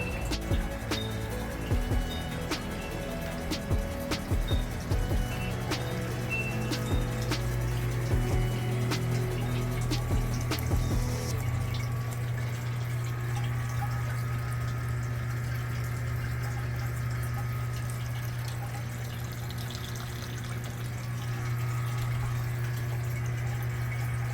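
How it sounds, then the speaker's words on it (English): Water flowing steadily into a bucket lined with rocks that slow the stream, a continuous close splashing trickle with a low hum beneath, busier at first and then settling into an even flow. "I did put some rocks down there to kind of slow down the water going into the bucket"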